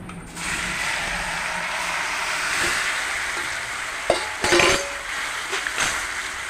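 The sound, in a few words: elephant apple pieces added to pan for chutney, stirring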